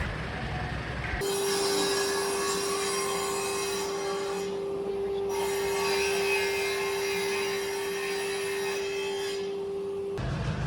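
Scrap wood cut at a cut shop: a steady high-pitched saw whine runs for about nine seconds over a broad noisy workshop roar, dipping briefly midway, with no talk.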